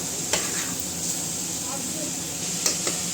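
Chickpea fry being stirred with salt in a pan: a soft, steady sizzle with a few light scraping and clinking strokes, close by but fairly quiet, no one talking.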